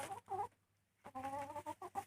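Domestic chickens clucking close by in short bursts, a pause of silence, then a rapid run of several clucks.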